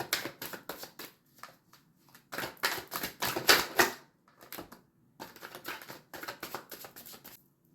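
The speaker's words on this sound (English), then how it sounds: "So, I'm going to shuffle until Source spits out my cards." Tarot deck being shuffled by hand in several quick bursts of riffling card clicks separated by short pauses, close and clear with no talking.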